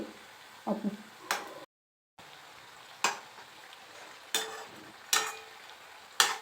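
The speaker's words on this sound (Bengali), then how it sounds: "দুটো সাইডই দেখো লাল লাল করে ভেজে নিলাম" Crab-shaped semolina pitha frying in oil, with a quiet steady sizzle broken by several sharp clinks and scrapes, likely a utensil turning the pieces at intervals, and one short silent gap.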